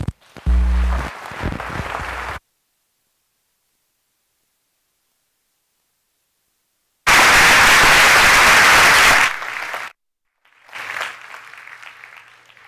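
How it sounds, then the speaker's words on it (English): Audience applause welcoming Dr. Eduardo Bonilla-Silva, Duke sociology professor, to the lectern. A dense, loud burst of clapping fills the hall for about two seconds before fading, and a few scattered claps and faint sounds follow. "I always wonder why people clap before listening to a presentation."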